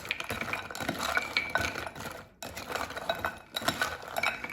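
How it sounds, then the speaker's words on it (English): Cauliflower gnocchi tossed in olive oil in a bowl, with light scraping and clinking of utensil against dish in irregular strokes, close up, with a brief pause midway before the tossing resumes. "So just toss it until it's coated in oil."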